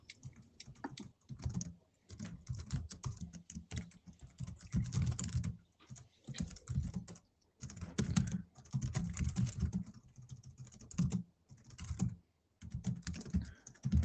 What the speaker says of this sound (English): I was typing at the same time I was making notes